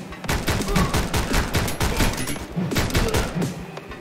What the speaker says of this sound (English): I got shot by the other dude again!